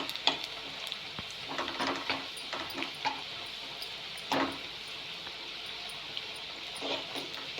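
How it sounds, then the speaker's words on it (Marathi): Batter-coated peanuts frying in hot oil over low heat, a continuous close fizzing sizzle broken by light scrapes and occasional louder crackles. "हे बघा, आपल्याला असं तळून घ्यायचं आहे."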